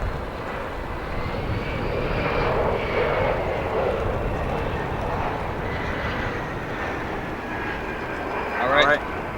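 A jet airliner at O'Hare International Airport in Chicago roars steadily with a broad engine rumble and whine, building slightly and holding before a brief clatter near the end, with people talking underneath.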